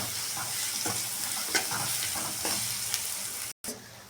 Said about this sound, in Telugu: ఉల్లిపాయ పచ్చిమిర్చి ఫ్రై అయిపోయింది కాబట్టి పసుపు వేసుకుంటున్నా